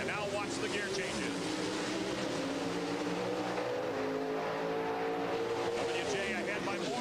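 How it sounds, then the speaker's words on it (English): A 1994 NHRA Pro Stock drag race car roars hard off the line and accelerates, its engine pitch climbing and dropping through repeated gear changes, loud and continuous over several seconds with a commentator speaking underneath. "Through the windshield, you see the Christmas tree, and now watch the gear changes."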